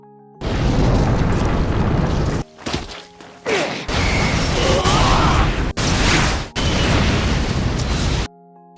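Loud, dense roaring blasts from a fierce anime battle that destroys a mountain, in long sustained bursts broken by brief gaps and sharp impacts, with no talk.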